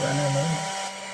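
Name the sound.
cooling fan of mini GPON OLT running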